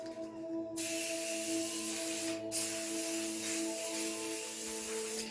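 A steady aerosol spray hisses continuously for several seconds, with a short break partway through, close and fairly loud.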